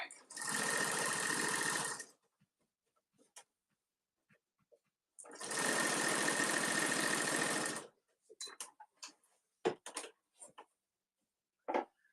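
Sewing machine stitching fabric for a boxy bag, two close bursts of fast whirring separated by a pause, followed by light handling clicks and rustles.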